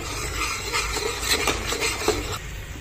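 Spices such as coriander powder and salt are stirred into vegetables in a hot pan, making steady close scraping and rubbing strokes with a few knocks against the metal and no one talking.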